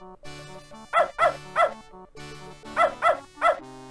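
A dog in a lake in the video game Beneath A Steel Sky barks in two quick bursts of three sharp, close woofs separated by a short pause.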